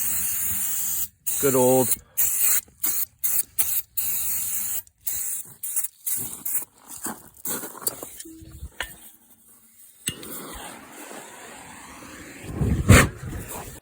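Starting fluid is sprayed from an aerosol can onto a tire rim on a Jeep XJ, short loud hissing bursts in rapid succession, then a longer spray, with someone talking between them.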